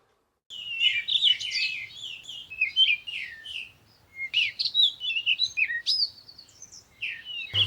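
Birds chirp and tweet in quick bursts of bright, high calls, overlapping and fairly close, with a faint low hum beneath and no voices.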